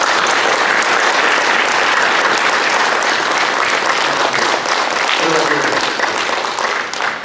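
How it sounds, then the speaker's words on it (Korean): A church congregation applauds to welcome newcomers, a loud, dense and steady wash of clapping that fills the hall throughout and eases slightly near the end. "박수 크게 환영하겠습니다"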